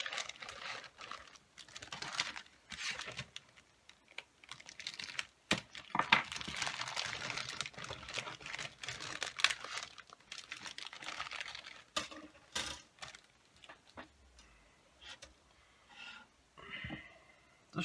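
Crinkly plastic sprue bags from a Dragon Panzer III M model kit being handled and opened, a busy run of close rustling and crackling with sharp ticks, steady for most of the stretch and thinning toward the end.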